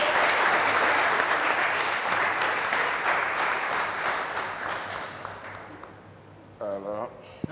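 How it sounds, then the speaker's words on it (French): Studio audience in a French TV game show bursts into loud, sustained applause and cheering that slowly fades over several seconds, with a voice briefly speaking near the end. "Ovation, s'il vous plaît, mesdames."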